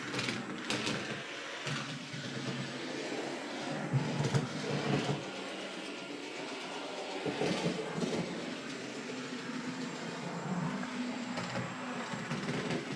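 A small Tillig TKp30-1 model locomotive's drive clatters and rattles along track, with uneven ticking and knocking over a steady mechanical whir, close by.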